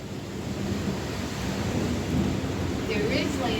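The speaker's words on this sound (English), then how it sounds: "We're here live, watching the rain pour down." During a thunderstorm, heavy rain pours down in a dense, steady hiss with low rumbling underneath, constant and fairly loud throughout.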